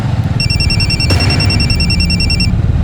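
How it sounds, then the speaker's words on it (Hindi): A phone rings in repeated electronic tones that stay steady and loud over a low background rumble, with no talking. "कोमल तुम्हारा फोन बज रहा है।"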